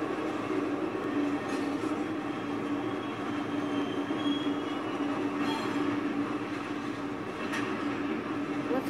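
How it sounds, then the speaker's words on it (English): A train in the video game Condemned: Criminal Origins rumbles steadily and loudly while slowing to a stop, with faint wheel squeals over a continuous rail clatter and no talking. "Why is the train stopping?"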